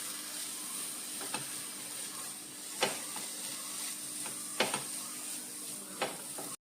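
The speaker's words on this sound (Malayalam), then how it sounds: "അപ്പം തേങ്ങയും ഈ തേങ്ങയുടെ വെള്ളമൊക്കെ ഒന്ന് വറ്റുന്നിടം വരെ നമ്മളൊന്ന് ഫ്രൈ ചെയ്തെടുക്കണേ." Freshly grated coconut frying in a pan until its moisture cooks off, a faint soft hiss with a few light scraping ticks of stirring spaced through, quiet and without talk.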